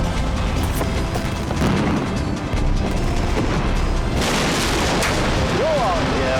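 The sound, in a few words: explosive demolition of Blyth Power Station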